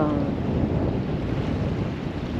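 Strong wind blowing over the sea at an anchorage off Barbuda, a constant loud roar with heavy buffeting across the microphone and no break or voices.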